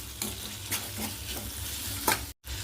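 Vegetables frying in a pan with tomato, onion and peas, stirred in several scraping strokes over a steady close sizzle, with a brief dropout near the end.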